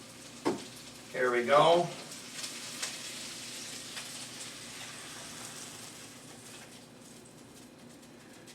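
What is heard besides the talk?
onions frying in olive oil in a pan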